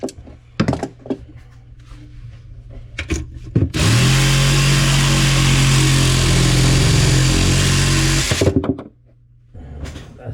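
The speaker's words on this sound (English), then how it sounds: "I go ahead and cut it right underneath, right above the nut without damaging the sink." A power tool cutting through a corroded faucet nut under a bathroom sink, a loud steady whining grind holding for about five seconds, framed by clanks and handling noise before and after.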